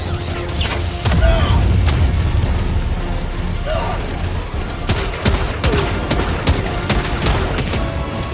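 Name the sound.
orbital barrage explosions in the video game Helldivers 2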